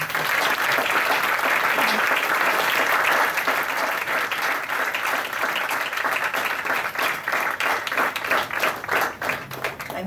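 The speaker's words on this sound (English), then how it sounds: "Round of applause for all of them once again." An audience applauds after a dance performance, with steady, dense clapping that fills the room, loud and continuous, then slowly thins toward the end.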